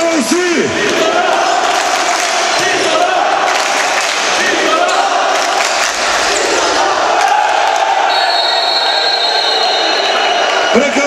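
Loud crowd at a Slovenian handball league match between RD Istrabenz Plini Izola and RK Maribor, chanting and cheering steadily in an indoor arena, with shouts and a commentator's voice mixed in throughout.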